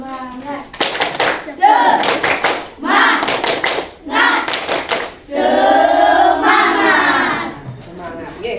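An Indonesian primary school class performs the tepuk semangat clap chant: sharp, loud bursts of unison hand claps in a rhythmic pattern, followed by children's voices chanting together up close.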